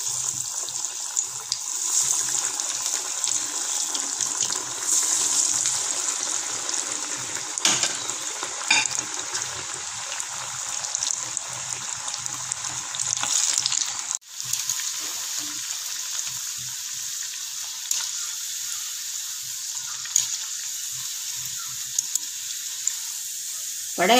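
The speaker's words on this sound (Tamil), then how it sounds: "எண்ணெய் சூடாக அடித்து ஒரு வடையாக போட்டுக்கலாம்." Masala vada frying in hot oil, a steady crackling sizzle with fine bubbling that runs throughout, briefly dipping midway before carrying on, with no talking over it.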